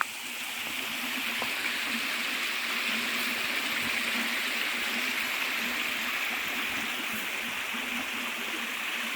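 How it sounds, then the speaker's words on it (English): Water pours steadily over a small weir at a frozen pond during a forest hike, a continuous rushing, splashing flow at moderate distance with no voices. "It's got a nice little weir as well."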